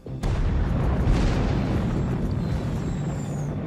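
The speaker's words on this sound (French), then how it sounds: "un canon anti-aérien Beaufort tirait des balles traçantes par rafale de 5" A Bofors anti-aircraft gun fires tracer rounds in bursts of five during a night Canadian attack near Verrières Ridge in Operation Cobra, a sudden loud blast followed by a sustained roaring rumble that fills the clip.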